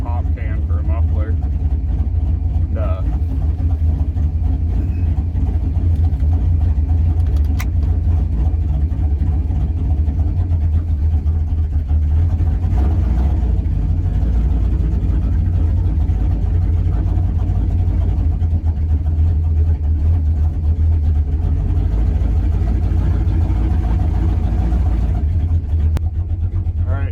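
A 1966 Oldsmobile 88 with a 425 big-block V8 and true dual exhaust with small mufflers idles loudly and close up, a steady deep rumble throughout with slight surges, while someone talks over it.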